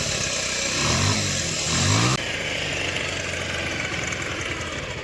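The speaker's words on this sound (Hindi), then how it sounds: "बाइक आप देख रहे हैं बिल्कुल स्टार्ट हो रखी है।" A Bajaj Pulsar 150 motorcycle whose revs drop too quickly runs close by after starting. It gives two throttle blips that rise and fall, then settles abruptly into a steady, even idle.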